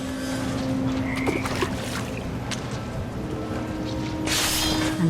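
Toads croak in the video game What Remains of Edith Finch, a low steady croaking drone running under a murky ambient bed with scattered small clicks and a brief rustling swell near the end.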